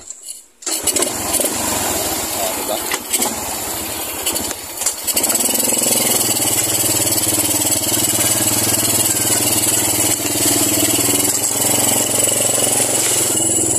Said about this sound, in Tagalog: Kaya gumawa yung motor ko guys.